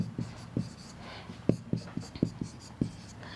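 A pen or marker writes out a chemistry formula on a board or page, giving short rhythmic taps and strokes, close and clear, with no talk.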